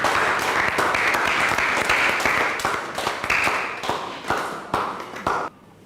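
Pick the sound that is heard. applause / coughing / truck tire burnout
applause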